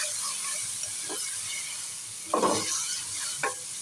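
Capsicum masala with garam masala fries in a pan with a soft, steady sizzle, broken by a few brief scraping stirs of a spoon, close and moderately quiet, with no voices.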